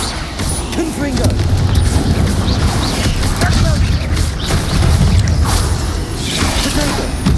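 A Confringo fire spell blasting in Hogwarts Legacy, with bursts, crackling impacts and debris under steady game noise, loud and close, with a voice speaking over the action.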